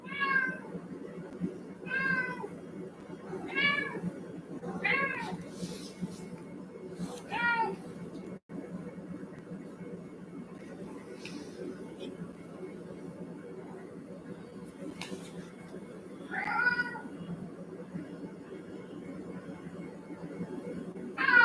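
An indoor cat meows repeatedly, several short, clear calls in bursts early on and again later, fairly close, with a low room hum between them.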